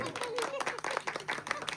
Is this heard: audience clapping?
yes